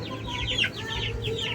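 Free-range backyard chickens cluck close by in a quick series of short calls, over a low steady background hum.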